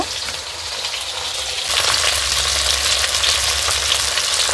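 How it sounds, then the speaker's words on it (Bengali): Pieces of Foli fish fry in hot oil in a pan, giving a steady bright sizzle that swells louder halfway through and continues without talk. "মাছটা ভাজা হয়ে গেছে"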